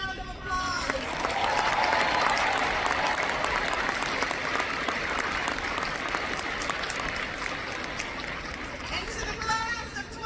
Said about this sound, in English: Let's give EJ another round of applause.